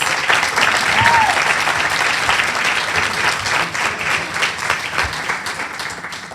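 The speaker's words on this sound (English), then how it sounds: "Please give them another round of applause." A crowd at a leadership awards ceremony gives sustained applause, dense clapping from many hands that gradually thins toward the end, with a brief whistle-like tone early on.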